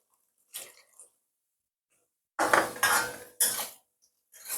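A spoon scrapes and clinks against a bowl while sugar is stirred into Malta for Jamaican spice bun, in a few short bursts of clattering separated by silence.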